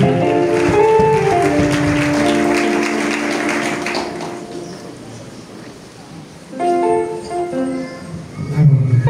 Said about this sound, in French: Acclamez-le.